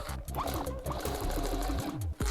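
An upholstery sewing machine used on old Cutlass car seats keeps running after its thread has run out, giving a close, steady, rapid mechanical chatter with a brief stutter near the end.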